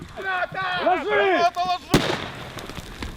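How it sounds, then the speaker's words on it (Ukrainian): A shouted voice, then a single sharp grenade blast during military training for soldiers of the 65th brigade, loud and close, trailing off into a noisy rumble. "Граната!"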